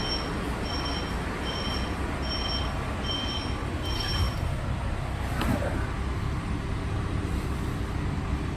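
PATCO High Speedline train pulling into the Collingswood station, its wheels letting out repeated high squeals over a loud, steady rumble of rolling stock close by.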